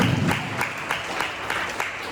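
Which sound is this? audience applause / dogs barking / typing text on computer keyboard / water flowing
audience applause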